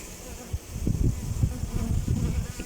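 Honey bees buzz steadily and close by at the hive entrance, a dense droning swarm with individual bees passing, no voices.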